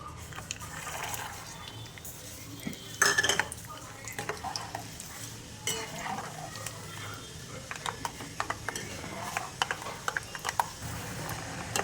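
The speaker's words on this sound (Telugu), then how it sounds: "1 కప్ శనగపప్పుకి 1/2 కప్ వరకు పల్లీలను కూడా వేయించుకుందామండి." Peanuts frying and being stirred in a pan while making chana dal mixture, with soft scraping and clinking of a spoon against the pan over a low sizzle, close by and without speech.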